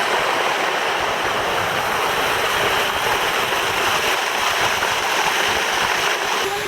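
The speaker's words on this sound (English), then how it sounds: "Got fountains all over the place." Fountains splashing around a resort pool in the Riviera Maya, a loud, steady rush and spatter of falling water heard up close, unbroken throughout.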